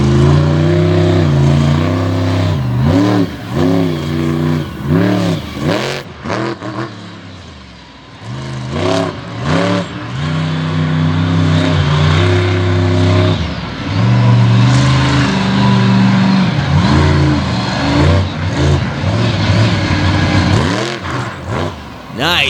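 A monster truck engine roars and revs continuously at a Speedway 95 event in Bangor, Maine, rising and falling loud and close, with crowd noise and an announcer talking over it.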